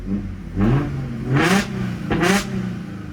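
A car engine idles steadily, then revs up sharply three times in quick succession, each rev rising and falling back, close and loud.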